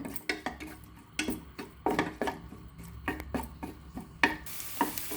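Long-sliced onions are stirred in a pan for vegetable pulao, with repeated sharp spoon scrapes and knocks against the pot over a faint, quiet sizzle, close and irregular, no voices.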